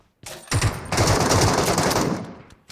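Rapid automatic gunfire in the Metro Royale mobile shooter, a dense, loud burst of close shots rattling almost continuously for about two seconds before cutting off.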